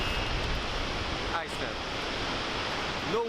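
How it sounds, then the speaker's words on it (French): One of Iceland's largest waterfalls gives off a steady, dense roar of falling water that fills the whole span without a break, with a faint hint of wind over it. "c'est une des plus grosses cascades en Islande"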